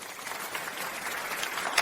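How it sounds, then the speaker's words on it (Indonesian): A brief burst of audience applause welcoming a guest, a dense steady patter of many hands clapping at moderate volume, with no voices over it. "Mari kita berikan tepuk tangan meriah untuk menyambutnya."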